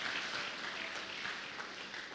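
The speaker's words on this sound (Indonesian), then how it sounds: "Mari kita beri tepuk tangan sekali lagi untuk mahasiswa." An audience applauds graduating students at a college commissioning night in Makassar, with a steady, fairly faint patter of many hands clapping, heard from a distance.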